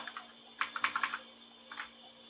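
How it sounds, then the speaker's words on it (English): Keystrokes on a Gamesir GK300 mechanical keyboard, a quick run of sharp, clicky taps followed by a pause and a couple more presses, fairly faint and close with no talking. "How do the keys feel typing? Very clicky, that's all."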